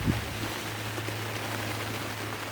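Rain falls steadily at a carp fishing spot, a faint even hiss of drops with a low hum underneath, alone and continuous throughout.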